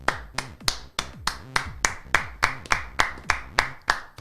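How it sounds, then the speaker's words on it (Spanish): A single person claps their hands in a steady, sharp rhythm, about fourteen crisp claps close to the listener, during a Paraguayan football studio show. "¿Por qué aplaudí poco, Franquito?"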